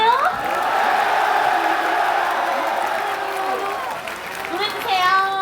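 Concert crowd at a military day celebration applauding and cheering loudly and steadily, with whoops and shouting voices layered over the clapping throughout.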